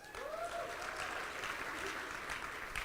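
Audience applause at a Republican Jewish Coalition leadership event, a soft, steady patter of clapping heard at a distance, with a faint tonal whistle near the start.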